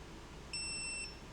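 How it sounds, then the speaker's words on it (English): A force gauge gives a single clean electronic beep of about half a second as the pushing force reaches 9 newtons, during a keycap pressure test for an Elektron Digitakt. The beep is close and clear over a quiet room. "it's gonna beep once I reach 9 newtons"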